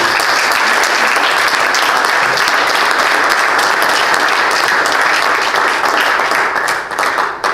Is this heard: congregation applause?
yes